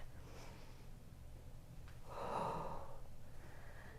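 One deep breath during a beginners' yoga flow: a soft, airy inhale that swells and fades over about a second, heard close against a steady low room hum.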